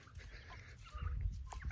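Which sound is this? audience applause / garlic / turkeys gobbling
turkeys gobbling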